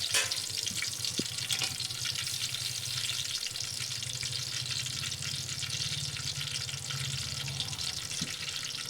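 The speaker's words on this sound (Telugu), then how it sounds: "టమాటో పేస్ట్ వేసుకొని పచ్చి వాసన పోయి ఆయిల్ పైకి తేలేంత వరకు మనం ఫ్రై చేసుకోవాలి" Tomato paste fries in oil with cloves and cinnamon for a fish curry, a steady broadband sizzle running continuously throughout with faint scraping and stirring beneath, close and even in level.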